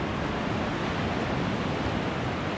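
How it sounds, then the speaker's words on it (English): Ocean surf on Myrtle Beach makes a dense, unbroken roar that holds steady and close throughout, with no voices. "I love listening to the ocean."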